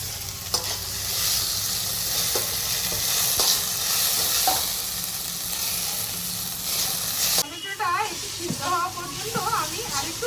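Chopped medium tomato added to ginger garlic paste frying in a pan for a village-style sole fish curry, a steady close sizzle and hiss with stirring, someone talking over it toward the end.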